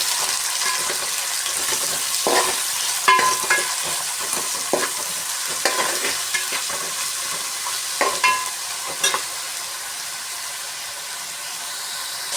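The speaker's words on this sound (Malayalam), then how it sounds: "ഇതിനകത്ത് കിടന്ന് ഒന്ന് വാടി വരുന്നിടം വരെ നമുക്കിതൊന്ന് ഇളക്കി കൊടുക്കാം" Onions wilt in hot oil while being stirred with a spoon. A steady hissing sizzle runs throughout, and loud scraping strokes come at irregular intervals, close and without any talk.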